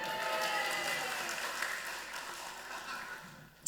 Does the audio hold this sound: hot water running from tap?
no